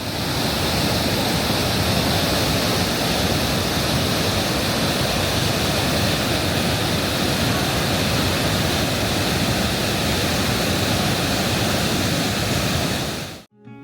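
Roaring rapids and waterfall in Switzerland, a thick, loud, unbroken rush of water heard up close, dense and steady throughout before cutting off abruptly at the very end.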